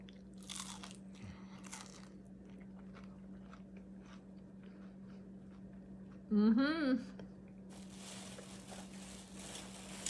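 A single loud crunchy bite into a crisp Appalachian hoe cake, with a steady low hum and faint background clatter around it.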